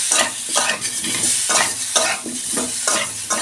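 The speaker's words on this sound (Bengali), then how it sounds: "আমগুলো একটু নাড়াচাড়া করে নেবো।" Mango pieces stirred in a pan for mango chutney, with rhythmic scraping strokes about twice a second over a continuous frying sizzle, close and fairly loud, with no voices.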